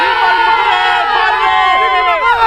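Moroccan football fans gather before a match, a continuous crowd hubbub with overlapping voices and chanting-like tones filling the space at steady loudness.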